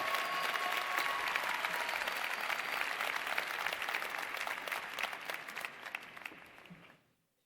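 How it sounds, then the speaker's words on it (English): An audience at a college of communication spring convocation ceremony gives a long, dense round of applause that stays strong and then tapers off, ending abruptly at about seven seconds. "Let's all please give them a big round of applause for the significant legacies that they've created"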